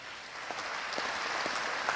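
Audience applause for the organisers at the closing of an experts' congress, a soft, even patter of many hands clapping at a distance, steady for two seconds.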